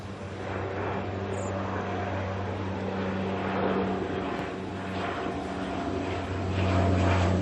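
A plane departing Auckland Airport for Rotorua, likely a propeller aircraft, drones steadily at a distance, its engine tone swelling louder toward the end.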